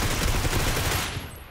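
Gunfire in the battle royale game PUBG: a dense, continuous burst of rapid shots, close and loud, that fades out toward the end.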